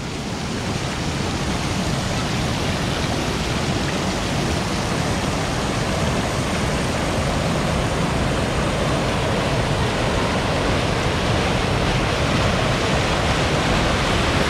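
Water rushing through gaps between the planks of a check dam at Eravimangalam makes a steady, loud, close roar that runs unbroken from start to finish, with no voices.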